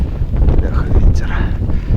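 Strong wind buffets an outdoor microphone at a lakeside float-fishing competition, a loud, continuous low rumble with gusty surges throughout and no other clear sounds.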